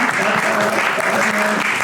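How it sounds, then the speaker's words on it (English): An audience at a poetry and performance poetry panel applauds the poet, dense loud clapping filling the room throughout, with a few voices faintly mixed in. "Round of applause for the poet."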